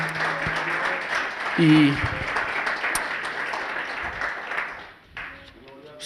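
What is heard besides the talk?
church congregation clapping hands as an offering of applause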